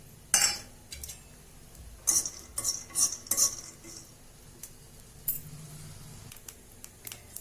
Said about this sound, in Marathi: थोडे शेंगदाणे भाजून घेऊ आपण